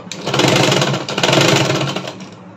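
A sewing machine runs steadily for the whole stretch while joining a double katori blouse piece. The whirring is close, loud and continuous, with no speech over it.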